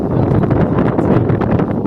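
Loud, gusty wind buffeting the microphone in a continuous rumbling roar at an outdoor Kwila timber deck build, with no voices.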